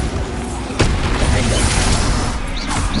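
A Bombarda spell detonates in the Hogwarts Legacy video game, a sharp blast near the start followed by dense, rumbling battle noise that stays loud throughout.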